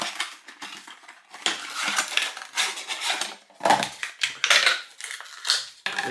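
Mail packaging is handled during an unboxing, with bursts of crinkling, rustling and crushing paper or plastic alternating with brief pauses, close to the listener and with no talk.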